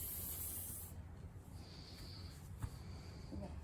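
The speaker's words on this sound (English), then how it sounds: "We're gonna put the Break It Loose 3000 spray right there." Break It Loose 3000 penetrating spray hisses from an aerosol can during an engine tune-up, one sharp, bright burst lasting under a second up close, followed by quieter shuffling and a faint tap.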